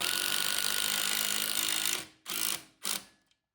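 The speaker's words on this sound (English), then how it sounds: "The fastest way to put these bolts in is by far using your impact driver and a socket set" An impact driver with a socket drives bolts into a solid brick wall: a loud rattling hammer lasting about two seconds, then two short bursts in quick succession before it stops.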